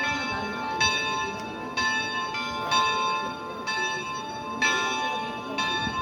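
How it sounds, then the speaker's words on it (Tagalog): A church bell at Kamay ni Hesus rings for mass, struck in a steady series of clear, resonant peals roughly a second apart, heard from a moderate distance with faint voices nearby. "That is the bell that showing that mass will get started."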